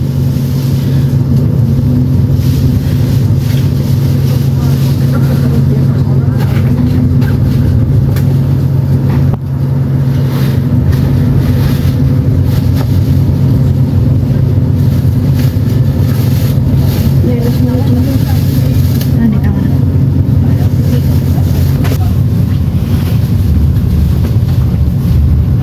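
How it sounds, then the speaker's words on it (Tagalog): A boat drones steadily with a low, constant engine hum and wind rushing past on the way back to Central pier. The sound is loud and continuous, and speech can be picked up faintly beneath it. "So ayan yung bangka."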